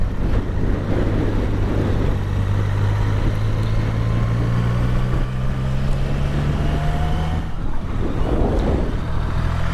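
BMW R1200RT motorcycle engine running steadily while riding, a continuous low drone with rising pitch as it accelerates, mixed with constant wind rush, close and fairly loud throughout.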